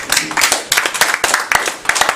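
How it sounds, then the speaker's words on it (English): A crowd applauds steadily, a dense wash of many hands clapping close and loud throughout. "another round of applause"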